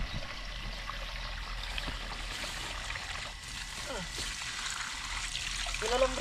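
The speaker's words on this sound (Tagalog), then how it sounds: "Naputol ang linya ng tubig natin." Water gushes steadily from a broken water line in a backyard garden, a continuous hiss and splash with brief voices and knocks over it.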